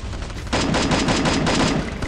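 Rapid automatic gunfire from the Free Fire battle royale video game, a dense burst of repeated shots starting about half a second in and continuing steadily to the end, loud and close.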